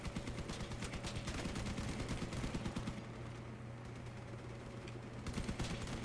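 Shotgun fire in the vehicle combat game Crossout: a faint, rapid string of gunshots rattles in a dense stream, easing slightly midway before picking back up, with no talk over it.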